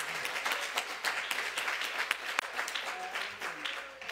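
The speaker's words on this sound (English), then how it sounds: "Let's give God a hand clap of praise." A church congregation claps in praise, a full, continuous burst of applause from many hands with faint voices mixed underneath.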